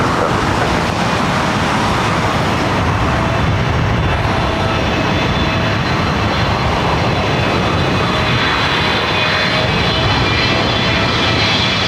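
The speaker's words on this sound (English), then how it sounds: "Singapore coming in from Tokyo to Narita. It's a 777-300ER." A Singapore Airlines Boeing 777-300ER arriving at LAX makes a loud, sustained jet engine roar that fills the whole stretch at a fairly close, constant level, with no talking.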